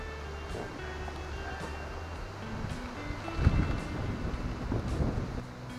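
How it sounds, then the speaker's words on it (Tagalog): Steady afternoon wind buffeting the microphone outdoors among banana plants, with low rumbling gusts that swell slightly toward the end; no one speaks. "medyo mahangin-hangin niya ngayong hapon"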